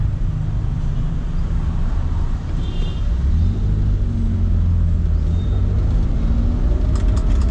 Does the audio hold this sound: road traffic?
yes